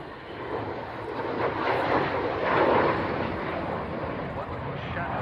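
A loud, continuous roar of a jet aircraft passing overhead at an airfield, swelling slightly in the middle and staying broad and rumbling throughout.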